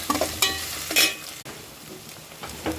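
Onion and ginger garlic paste sautéing in a pan, a soft steady sizzle with a few louder stirring scrapes near the start and another near the end.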